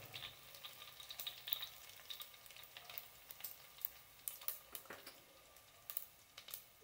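Cumin seeds and garlic sizzle in hot oil while cooking a dry jackfruit vegetable dish, a steady, fairly quiet frying hiss broken by frequent sharp crackles and pops throughout.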